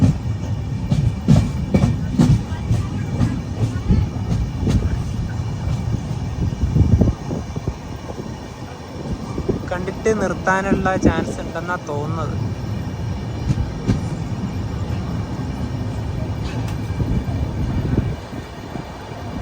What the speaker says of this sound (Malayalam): മധുര ജംഗ്ഷൻ റെയിൽവേ സ്റ്റേഷനിലേക്ക് ഇതാ നമ്മുടെ ട്രെയിൻ എത്തിക്കൊണ്ടിരിക്കുകയാണ്